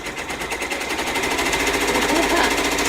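An embroidery machine stitches down a green sidewalk design for an in-the-hoop flower shop project, running with a rapid, steady needle clatter that stays close and continuous throughout.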